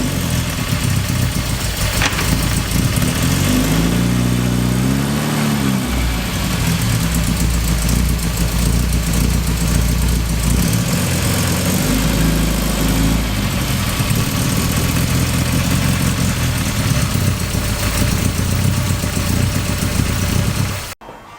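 A freshly rebuilt car engine runs on its first drive, loud and close for over twenty seconds. Revs rise and fall a couple of times before it cuts off abruptly at the end.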